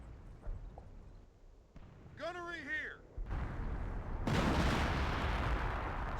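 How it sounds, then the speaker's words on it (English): Off-map artillery in Company of Heroes, the World War II strategy game, arrives as loud rumbling blasts and crashes that swell into a sustained roar through the second half, after a brief tonal sound. "This is off-map artillery"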